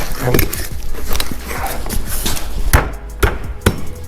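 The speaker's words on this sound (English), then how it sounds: "Now we're going to take out this seal. And we're just going to use the seal puller." A seal puller pries at the hub seal on a 2011 Ford F350 dually dump truck during a brake job, with scraping and metallic clanks leading to three sharp knocks near the end.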